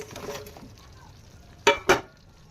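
Fish roe dhoka pieces dropped into a pan of oil-rich fried masala: two quick, sharp clattering hits close together after a quiet stretch of low kitchen background.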